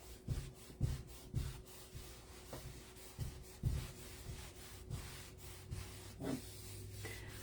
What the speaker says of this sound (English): I'm going to use the microfiber side of the fuzzing cloth to remove any streaks